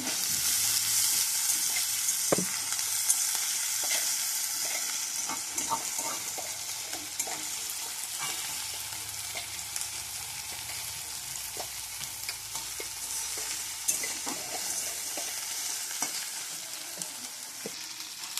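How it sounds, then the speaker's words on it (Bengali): Okra fries in a pan with a constant crackling sizzle, punctuated by scattered taps and scrapes of a utensil against the pan. "এদিকে ভেন্ডিটা এখনো ভাজা হচ্ছে।"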